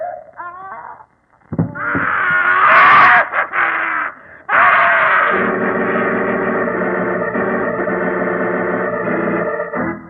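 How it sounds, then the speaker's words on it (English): A ghastly, drawn-out scream from a vintage radio drama, loud and wavering with an echoing, distorted wail that rises, breaks off briefly and resumes as a sustained moan. "Did you hear that? That scream?"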